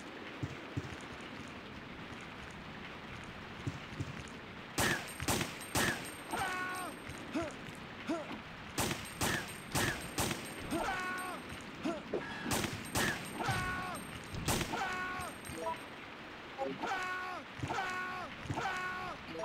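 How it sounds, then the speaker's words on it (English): Gunfire and weapon mechanisms sound in the video game Resident Evil 3, arriving as bursts of sharp shots in clusters with pauses between, moderately loud over a faint background. "Nice shooting, Tex."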